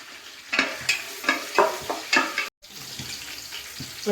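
Garlic, ginger and green chilies fry in a pan for a chicken roast, with a steady sizzle broken by a rhythmic series of stirring scrapes and a brief dropout partway through. No one speaks.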